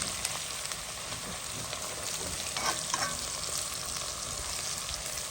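Oxtail and potatoes fry steadily in a pan, a dense continuous sizzle with scraping stirring strokes that stand out briefly midway, close and even throughout, with no voices.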